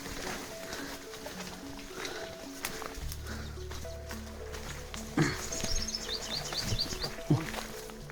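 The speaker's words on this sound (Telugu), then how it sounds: "పక్షులు ఓకే." Birds in a dense forest give short, high chirps and tweets, mostly in the later part, over rustling footsteps and faint human voices in the background.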